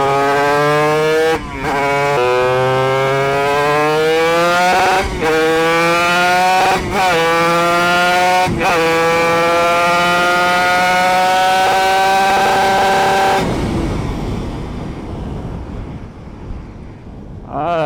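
A Honda RS125 NF4 two-stroke motorcycle engine, just restarted with carburettor trouble, runs loud and close with rising and falling revs and brief dips. It cuts out near the end, leaving wind noise.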